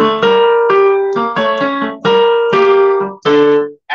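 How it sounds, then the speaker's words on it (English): A 3-2 clave rhythm is tapped out in a live salsa setting as a run of bright, pitched notes in uneven groups, with clear gaps between them and no voices. "A 3-2 clave is going to sound like this."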